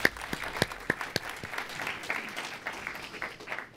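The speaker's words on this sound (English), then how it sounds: "how about another round of applause for Rachel?" An audience at an event claps for Rachel, a dense run of applause with a few louder individual claps early on, tapering slightly toward the end.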